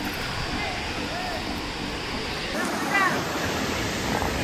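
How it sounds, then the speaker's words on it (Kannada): The main falls of Sathodi waterfall pour as a steady, broadband roar of rushing water, continuous and moderately loud throughout, with a faint voice briefly audible. "ಅದು ಮೇನ್ ಫಾಲ್ಸ್ ಐತಿ"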